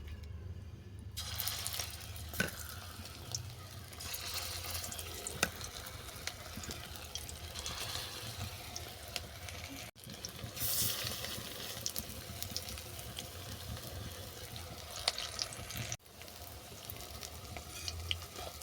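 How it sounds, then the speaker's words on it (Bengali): Shrimp and Malabar spinach fritters fry in hot mustard oil in a kadai, giving a steady, close sizzle with faint stirring and clinks, and no voices. "এরপর বড়াগুলোকে আমি ভেজে নেব।"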